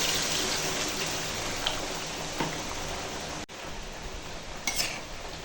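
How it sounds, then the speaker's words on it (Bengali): Heavy rain falling, a steady dense hiss of downpour with a few sharper drops and clinks standing out, no talking. "এত জোরে বৃষ্টি দিয়েছে"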